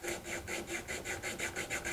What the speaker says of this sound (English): They do a good job of filing, as you can see.